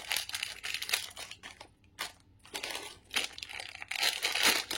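Plastic cover on a gold-finish jewellery box crinkling and rustling in close, irregular bursts with brief pauses, mostly alone.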